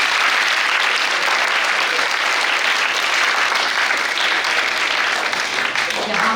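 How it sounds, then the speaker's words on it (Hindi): Children at a summer camp inauguration clap loudly together, a dense, steady wash of applause that holds at full strength throughout, with a faint voice or two underneath. "इसलिए अपने लिए जोर से ताली बजा लीजिए"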